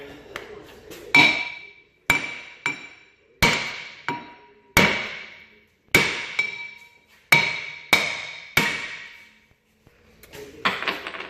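Hammer pounding on a brake rotor to free it: about a dozen sharp metallic strikes with ringing decay, spaced irregularly and some in quick pairs, loud and close with no talking.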